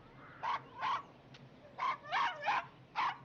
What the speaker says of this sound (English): Oh, the dogs always know.